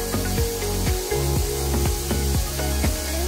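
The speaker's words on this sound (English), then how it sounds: "Circle spray with an S pattern." Steady hissing spray from a compressor-driven gun applying texture stone coating in an S pattern, close and continuous, with a series of rhythmic scraping knocks repeating throughout.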